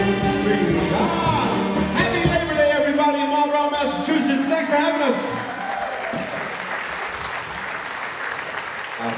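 Audience applause and cheering for a string band performer at a middle school show, overlapping the last ringing band notes, then continuing as broad clapping after the music stops.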